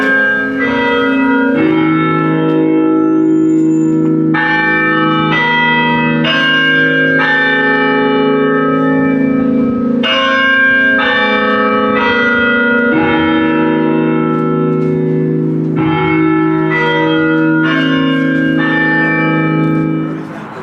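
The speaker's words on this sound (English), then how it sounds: "the 2 o'clock chime will go off in about the next 30 seconds" A loud clock chime inside an early concrete-reinforced building marks two o'clock with a long sequence of ringing bell tones, each strike overlapping the last as they sound alone for about twenty seconds.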